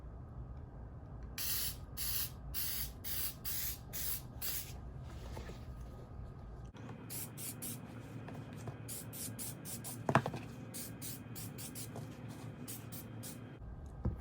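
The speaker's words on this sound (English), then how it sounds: "you take top off your mink oil, give it a little shake, and spray it on" Rapid rattling shakes of a mink oil spray can, then bursts of aerosol spraying in short hissing puffs, close by with a quiet room behind.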